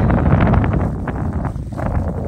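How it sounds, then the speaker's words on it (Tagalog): Strong wind during a heavy snowstorm in Kansas City, Missouri roars and buffets close to the microphone, gusting steadily with rough, rumbling low noise throughout. "Lakas ng hangin guys."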